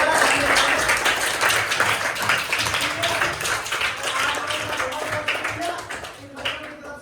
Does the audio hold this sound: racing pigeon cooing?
no